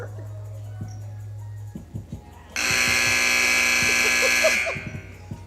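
A basketball arena buzzer sounds one long, loud electronic tone lasting about two seconds, preceded by scattered thumps and faint crowd noise.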